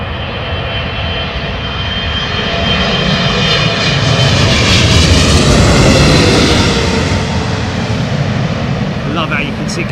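Boeing 767 at London Heathrow Airport roars past, a broad, loud jet engine rumble that swells toward the middle and then holds steady, with people talking over it.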